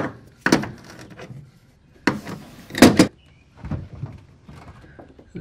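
Bifold door on a shuttle bus being swung shut and settling onto its pin, giving several loud separate knocks and clunks with quiet gaps between, close by.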